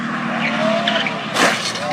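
A supercar skids on a racetrack, tires squealing in a sustained rising whine under the engine's roar, ending in a loud burst of scraping noise.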